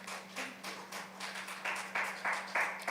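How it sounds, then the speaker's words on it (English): Audience at a youth gathering applauding a speaker, a short stretch of moderate scattered clapping in a room with a steady hum underneath. "Applaud her,"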